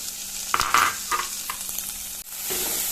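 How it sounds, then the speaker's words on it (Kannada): Chopped onions sizzling in hot oil in a pan with ginger-garlic-chili paste while being stirred, a steady frying hiss with a few scraping stirs near the start, cooking for North Indian style aloo baingan. "ಈಗ ಈರುಳ್ಳಿನ ಹಾಕ್ತಾ ಇದ್ದೇನೆ. ಈರುಳ್ಳಿ ಚೆನ್ನಾಗಿ ಫ್ರೈ ಮಾಡುವ."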